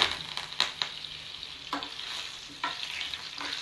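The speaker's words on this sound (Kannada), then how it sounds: "ಒಂದೆರಡು ಒಣಮೆಣಸಿನ್ಕಾಯಿ ಸ್ವಲ್ಪ ಇದು ಫ್ರೈ ಆಗಲಿ ನೋಡಿ ಇವಾಗ ಸ್ವಲ್ಪ ಕರಿಬೇವನ್ನು ಹಾಕೋತಾ ಇದ್ದೀನಿ" Dry red chillies and curry leaves fry in hot oil for a sambar tempering, a bright continuous sizzle punctuated by several crisp spoon scrapes and stirring knocks, close and clear.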